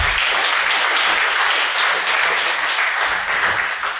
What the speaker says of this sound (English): Everyone get a round of applause, everyone at Lightning Talks.